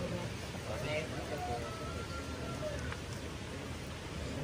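Rain falls steadily as a soft, continuous hiss over a rural village house construction site, under quiet talk.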